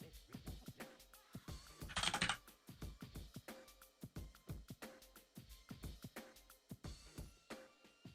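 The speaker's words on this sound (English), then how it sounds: "How do you guys like my loud ass keyboard down?" Fast, rhythmic clacking from a loud computer keyboard in use during Minecraft play, close and continuous with a short denser flurry partway through and no talking.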